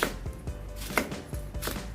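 A knife chops chilies on a cutting board in a loose, uneven rhythm of quick close thuds, several cuts over a couple of seconds with no voices.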